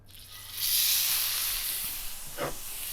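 A steak sears in a hot pan with a loud, steady sizzling hiss that swells up within a second and holds, with a brief spattering pop near the end.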